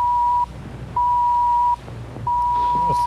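A phone in a low-budget sci-fi film gives three steady electronic beeps, each lasting under a second, separated by short pauses, loud and close with faint background noise.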